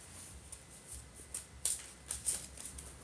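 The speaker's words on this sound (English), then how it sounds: "Let's give it a quick shuffle." Tarot cards are shuffled by hand in quick soft riffling bursts, faint and close, with a few sharper flicks near the end and no talk.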